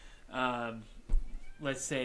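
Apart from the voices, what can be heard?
cat meowing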